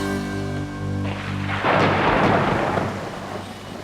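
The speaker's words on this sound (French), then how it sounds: "les orages, d'une violence rare, alors que nous sommes en saison sèche" A deep, rolling thunderclap swells into a loud rumble over a steady hiss of rain, with a low hum underneath early on, during a violent dry-season storm in Zambia.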